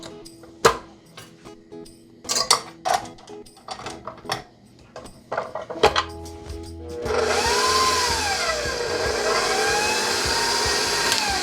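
An electric mixer whips heavy cream with chocolate into a chocolate whipped cream, starting after a run of knocks and clatter and then settling into a steady, loud whirring drone.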